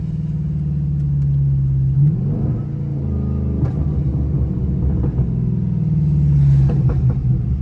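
A Pontiac G8 GT engine rumbles nearby with rising and falling revs, a deep throaty drone surging as the car accelerates with traction control off, with faint road and rain noise.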